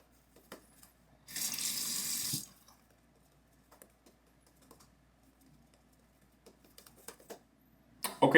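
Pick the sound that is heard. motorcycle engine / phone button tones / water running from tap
water running from tap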